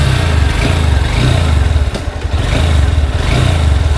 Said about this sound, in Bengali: ইঞ্জিনের সাউন্ডও কিন্তু যথেষ্ট ভালো।